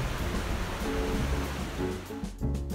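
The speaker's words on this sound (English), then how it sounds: "Now we drop down to the river." A river rushes loudly and steadily at the Catwalk Recreation Area near Glenwood, New Mexico, a constant broadband wash of flowing water with a short dip before it surges back.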